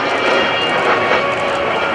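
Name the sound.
military aircraft flying at an airshow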